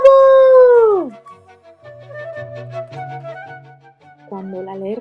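A wolf howl sound effect in a children's story about a boy and a wolf: one long, loud, falling howl, followed by softer whimpering tones and a brief yelping cry at the end.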